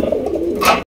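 A single Indian Norton pigeon gives a short, close, throaty coo that swells briefly before stopping, heard alone without talk.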